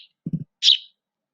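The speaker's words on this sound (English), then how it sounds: "It's a bird chirping." A bird gives a few short, close chirps: a brief high tweet, then a quick low triple flutter, then one clear high chirp, all in about a second against silence.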